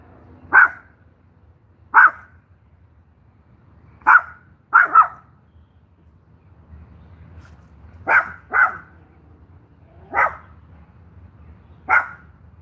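A dog barks in a backyard, apparently at cats, giving eight sharp, fairly loud barks spaced irregularly over a quiet background, some in quick pairs.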